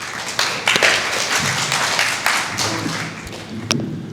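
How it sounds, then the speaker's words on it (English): Audience applause at a Pitt Meadows all-candidates meeting in 2022, a steady wash of clapping from a crowd lasting the whole stretch, with a few sharper claps and thumps standing out, no talking. "Well, I'm hearing the applause,"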